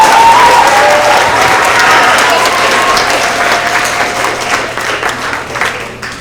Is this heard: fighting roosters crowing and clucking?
no